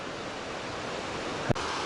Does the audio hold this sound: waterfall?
yes